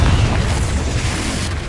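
A Confringo blasting spell explodes in the Hogwarts Legacy video game, giving a loud, sustained low boom with a rumbling, crackling tail.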